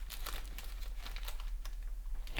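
Plastic FG bags in assorted sizes rustle and crinkle as they are pulled out and handled, producing a steady stream of close, light crackling bursts with no talking.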